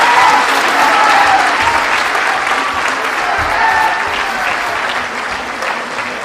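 An audience at a social justice forum stands and claps loudly to welcome a guest, a dense, sustained applause that fills the hall and fades only slightly toward the end.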